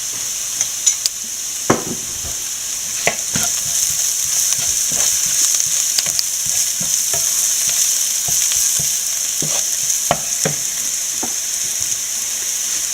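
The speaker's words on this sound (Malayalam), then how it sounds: "ചെറിയ ഉള്ളിയും വെളുത്തുള്ളിയും നല്ലപോലെ വഴന്നിട്ടുണ്ട്." Shallots and garlic sautéing in oil in a pan with turmeric added, a steady close sizzle and crackle with scattered stirring clicks and scrapes running throughout.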